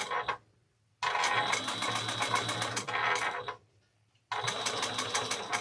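A sewing machine stitches binding onto a backpack in loud, rapid mechanical bursts, running in three separate runs with short pauses between them.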